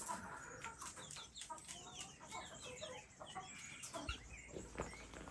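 Young chicks and hens on a Spanish farm cheep and cluck steadily at close range, with rapid overlapping calls and light rustling throughout.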